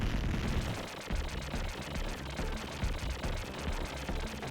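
Dense gunfire and explosions from the video game Contra Hard Corps, a continuous rattling barrage of rapid shots and blasts that stays loud and busy throughout.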